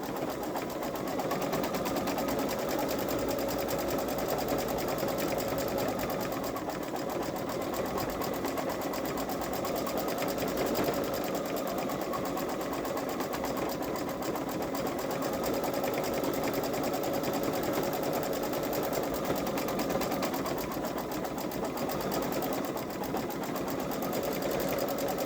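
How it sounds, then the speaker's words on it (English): A Babylock Solaris embroidery machine stitches out a design, its rapid, even needle hammering running unbroken and close for the whole stretch, with no voices over it. "This is only a 6-minute stitch out"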